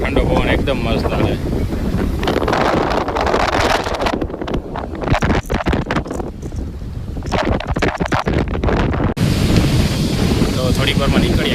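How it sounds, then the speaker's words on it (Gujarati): Strong, cool sea wind buffets the microphone at Jannat Beach in Porbandar on a Sunday evening, loud gusty roaring with surf-like wash, rising and dropping in bursts. "ઠંડો ઠંડો પવન એકદમ મસ્ત આવે."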